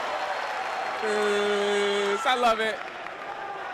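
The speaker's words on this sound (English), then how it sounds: "Johnson and Wales fans audibly cheering for Coast Guard" Fans cheer and applaud at an NCAA Division III wrestling championship, a steady crowd roar with a brief swell, heard under an announcer's voice.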